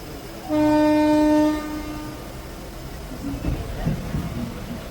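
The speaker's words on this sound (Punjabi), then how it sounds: "ਅਹਿਮਦਗੜ ਰੇਲਵੇ ਸਟੇਸ਼ਨ ਤੋਂ ਟ੍ਰੇਨ ਜਿਹੜੀ ਆ ਚੱਲ ਪਈ ਆ" A Ludhiana–Churu passenger train pulls out of Ahmedgarh station behind a powerful electric locomotive, opening with a loud, sustained horn blast lasting about a second, then fading into low rolling rumble as the train moves off.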